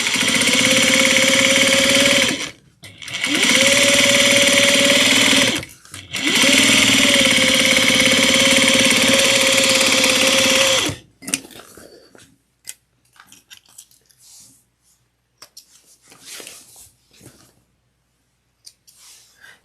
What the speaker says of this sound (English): we're going to top stitch from here at 1/8 of an inch